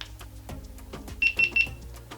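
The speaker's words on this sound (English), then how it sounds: "the fact that it beeps every time" A GoPro Hero 5 Black camera gives three short, sharp high beeps in quick even succession as recording starts, faint background rumble beneath them.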